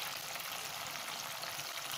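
Chicken pieces sizzle and fry in oil-separated masala for aalo chicken salan, a steady dense hiss throughout with no speech.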